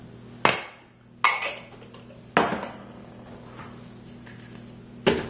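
Dry pancake ingredients with ground oats, baking powder, cinnamon and sweetener being mixed in a bowl, with sharp clinks of a utensil against the dish in four or five separate strikes, each ringing briefly, close and loud.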